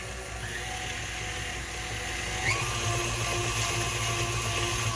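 An electric mixer runs on low through an Italian dried herb mix, giving a steady, close motor whine with a slight lift in pitch about halfway through. No one speaks.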